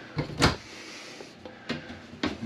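Medicine cabinet door in the bathroom of a 2022 Jayco Jay Flight 33RBTS travel trailer, opening with a few short soft clicks and knocks spread over a couple of seconds, close and quiet.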